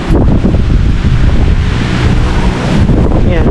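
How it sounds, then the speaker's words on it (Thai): Strong summer-storm wind gusts roar continuously into the microphone at a mountain campsite in Khao Kho, loud and buffeting throughout. "โอ้ลมมาแล้ว"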